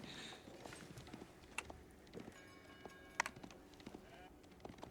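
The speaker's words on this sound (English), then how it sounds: "The Horsemen, oh, that's a lot of Horsemen." Horsemen cavalry in the Age of Empires game, a faint scatter of clip-clopping hooves and small clicks under quiet ambient battlefield noise, with a brief bright ping in the middle.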